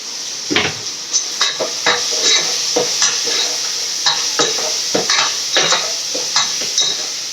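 Oil sizzles in a pan while onions are sautéed for mutton soup, a constant close frying hiss punctuated by regular metallic scrapes and clinks of a spoon stirring against the pan.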